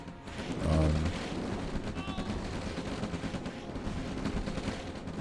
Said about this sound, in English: Artillery is shooting across.